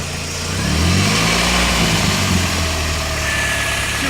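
A car engine running close by, warmed up, rising into a steady rev and holding there with a low rumble throughout.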